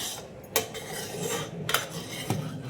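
A spoon stirring boiling milk in a pot for basundi, scraping the sides with three sharp metallic clinks over a constant bubbling hiss.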